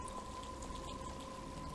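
Steady rain falls in Batman: Arkham Asylum, a soft, continuous patter with a faint constant tone underneath, quiet and unbroken, with no voices.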